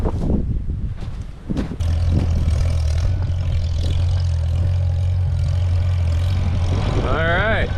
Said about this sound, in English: Let's go get the tractor and we'll get it inside.